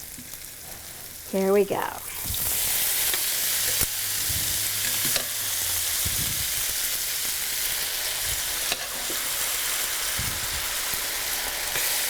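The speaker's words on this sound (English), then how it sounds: "I love that sizzle." Cooked pasta dropped straight from the pot into a hot pan with mushroom cream sauce bursts into a loud, steady sizzle and frying hiss, with stirring scrapes and a brief spoken phrase at the start.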